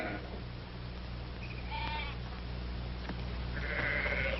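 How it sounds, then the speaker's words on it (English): A flock of sheep being driven in an old Western setting bleats in scattered, wavering calls, some overlapping, at moderate distance over a steady low hum. "help me get those sheep on the move"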